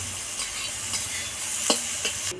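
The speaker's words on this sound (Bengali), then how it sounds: "পেঁয়াজগুলোকে লাল করে ভেজে নেব" Onions fry in a pan until reddish-brown, giving a continuous hiss of oil punctuated by a few sharp scrapes of a stirring spoon, close and clear with no speech.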